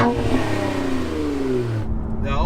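A 2020 Infiniti Q60 Red Sport 400, with a 400-horsepower engine derived from the Nissan GT-R unit, revs hard with a loud, rising engine note, then lets off abruptly and settles back toward idle.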